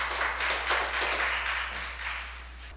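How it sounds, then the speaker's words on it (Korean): An audience at a Korean civic lecture claps for the professor, a few seconds of steady, moderately loud applause that slowly thins out. "우리 백인교 교수님에게 큰 박수 한번 쳤으면 감사하겠습니다"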